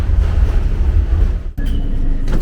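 Steady low rumble of a tram rolling along rails in Belgrade, Serbia, with a brief dip and a faint squeal partway through.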